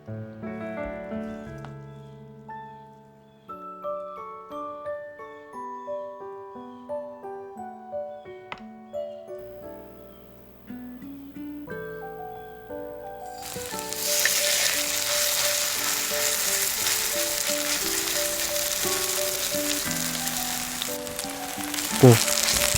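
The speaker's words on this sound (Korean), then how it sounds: "이제 빗소리와 전 부치는 소리가" Soft melodic background music plays first. About halfway through, a loud, steady sizzle of vegetable jeon batter, made of vegetables and flour, starts frying in a pan, with a dense, rain-like hiss and crackle that continues to the end.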